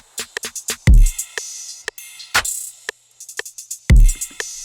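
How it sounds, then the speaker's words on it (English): Dark trap drum beat shifted off the beat, with deep booming kicks, sharp snares and hats falling out of step against a metronome's clicks, close and punchy with gaps of silence between hits. "let me turn on the metronome here"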